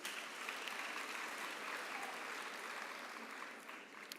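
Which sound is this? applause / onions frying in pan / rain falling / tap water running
applause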